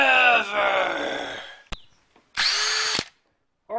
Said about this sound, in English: I can drill the hole right now. It'll just go slow.